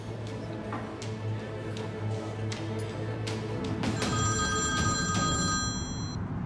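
An outgoing telephone call rings on the line, a repeated electronic ringback tone over a quiet room, with a brighter tonal ring starting partway through.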